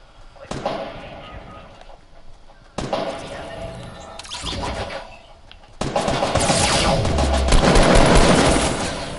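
Gunfire in the video game Fortnite: sharp bursts of shots at intervals, then a louder sustained volley near the end, with a voice talking over parts of it.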